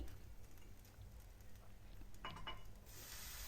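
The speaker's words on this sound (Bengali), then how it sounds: "আমি একটু জলের ছিটা দেব আর কি" Water sprinkled onto semolina cooking in a pan for suji upma gives a brief crackling hiss near the end, over a low, steady background sizzle.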